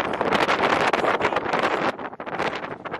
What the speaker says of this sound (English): I don't know if you can hear me over this wind.